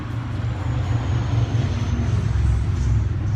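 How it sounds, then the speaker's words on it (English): Road traffic passing by, a continuous low broadband rumble of vehicles that swells and eases slightly, steady and fairly loud with no voices. "Because I've got a lot of traffic coming through."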